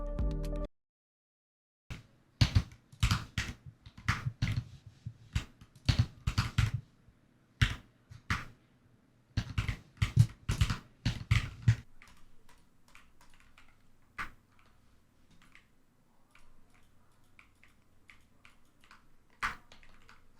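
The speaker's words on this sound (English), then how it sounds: "I'm tapping on my mechanical keyboard and clicking my mouse?" Mechanical keyboard keys clatter in quick irregular bursts alongside sharp mouse clicks during gaming, close and crisp, with pauses between flurries and lighter scattered clicks toward the end.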